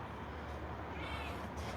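Several small kittens meow at feeding time around a food bin, steady mewing close by with no talk.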